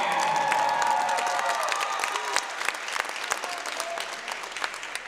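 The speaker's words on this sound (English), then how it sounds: "let's have a round of applause for number 16, Cora Cunningham" A crowd at a Tufts volleyball senior night applauds in a dense, steady burst of clapping from many hands, filling the gym and tapering slightly toward the end.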